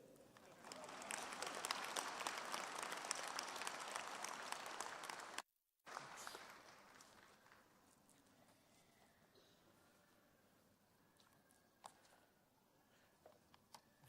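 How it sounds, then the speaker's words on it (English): Audience applause at a university Faculty of Theology and Faculty of Education graduation ceremony, a steady hall-filling clatter of clapping that cuts off abruptly, then thins to a quieter room with scattered murmurs and a few isolated claps. "may I invite you to give Professor Meyring another round of applause"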